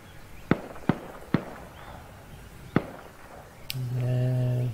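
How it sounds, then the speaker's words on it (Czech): Gunshots in the Arma 3 video game: four sharp, isolated reports spaced irregularly, then a brief click followed by a droning tonal hum that fills the last second. "Kde se střílí po mně z uhlu?"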